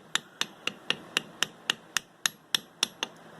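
Sharp metallic hammer taps on metal held in a vise, about a dozen in a steady rhythm, close and fairly loud with brief ringing after each strike.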